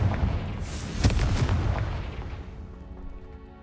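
A Confringo fire spell in Hogwarts Legacy bursts with a heavy booming blast that peaks sharply about a second in, then rumbles and fades away.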